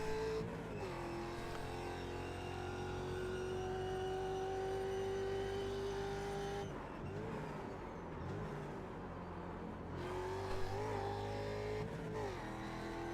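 A Ford Mustang FR500S race car in the iRacing sim roars steadily at high revs, its engine pitch climbing and dropping through gear changes and corners. It stays loud and close throughout, with no talking.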